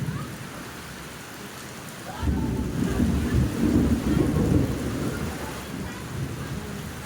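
Rain falls during a storm. A soft hiss swells after about two seconds into a steady, dense downpour that continues close by.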